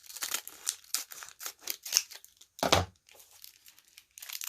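Scissors snip and trim wrapping paper for imitation Christmas candies, with a rapid series of close, crisp cuts and crinkles followed by a louder single crunch and a few softer snips.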